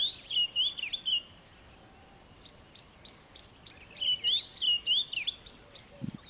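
A grey-headed bushshrike and a scrub robin sing in two bursts of clear, high whistled phrases at the start and again near the end, moderately close, with a quiet gap in between.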